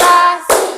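Hands clapping in a classroom clap chant, one sharp close clap after a brief rustle, loud and alone with no voices.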